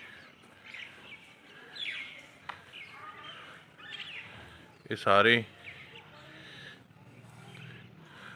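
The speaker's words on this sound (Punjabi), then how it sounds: "ਪੰਛੀ ਸਵੇਰ ਆਪਣੇ ਟਾਈਮ ਤੇ ਆ ਜਾਂਦੇ ਨੇ ਔਰ ਚੋਗਾ ਖਾਂਦੇ ਨੇ" Birds feeding in the morning chirp in short scattered calls, with one louder, sharper call in the middle, while someone talks over them outdoors.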